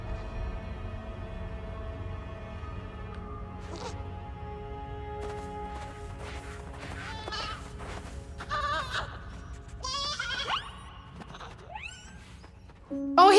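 Animal cries from goats in the video game Blanc. Several high, wavering bleats come in intermittent bursts over quiet ambient game music, growing more frequent and louder toward the end.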